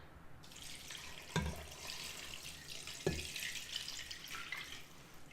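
Turkey bone broth pours steadily into a pot, a continuous close liquid splashing with two brief knocks from the container, no talking.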